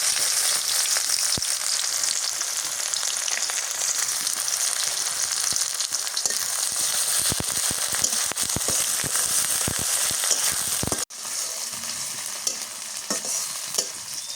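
Chopped onion frying in mustard oil with bay leaf, cloves and cinnamon, a loud, close, continuous sizzle broken by stirring scrapes and one sudden brief drop.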